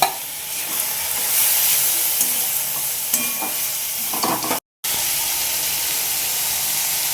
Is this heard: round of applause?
no